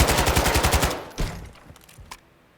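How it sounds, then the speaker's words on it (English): A rapid automatic weapon burst in Warzone 2, fired through a door, lasts just under a second. A decaying tail and a few scattered single shots follow, loud and close. "once you start shooting through the door, your bullets will travel right through the door"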